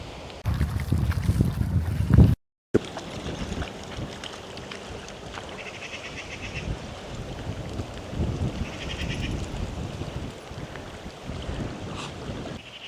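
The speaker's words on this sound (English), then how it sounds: "I'm just saying I'm grateful for that little breeze because otherwise it would just be blisteringly hot." A breeze blows across a lakeside campsite in France on a hot day, a steady rushing wind buffeting the microphone close up, with a brief dropout early on.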